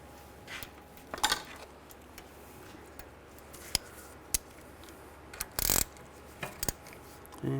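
A screw being lined up and fitted on the parking brake of a 2009-2010 BMW 535i xDrive, with sparse sharp metallic clicks and ratchet-like ticks scattered over quiet room tone.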